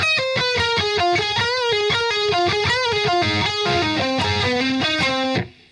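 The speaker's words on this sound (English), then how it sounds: "the whole kind of little descending lick kind of goes like this" Heavily distorted electric guitar plays a descending lick: a fast run of chugging notes that climbs, then steps downward, loud and dense, before cutting off abruptly.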